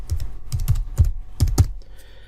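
Keys tapped on a computer keyboard while typing a word in Microsoft Word, about six quick, close clicks in an uneven burst, with no voice.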